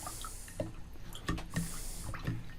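A paint brush swishes and taps in water with a few soft splashes and drips, quiet and close, as acrylic painting gear is rinsed.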